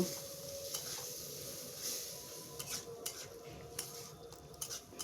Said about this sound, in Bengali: তারপর আমি ভালো করে মশলাটা কষিয়ে নেব।